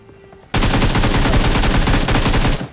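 Rapid automatic gunfire from a fight in the mobile game BGMI bursts in abruptly and rattles continuously for about two seconds, loud and close, before cutting off.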